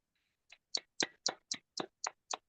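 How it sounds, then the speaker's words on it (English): A small audience at a mathematics lecture gives brief, quiet applause: about eight distinct, evenly spaced claps, sparse and isolated against silence. "Let's all give the speaker a round of applause now."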